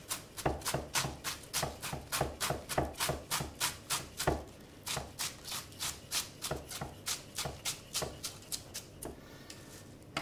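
A knife shreds cabbage finely on a board in a steady run of about thirty crisp, close chopping strokes with a regular rhythm, no talking over it.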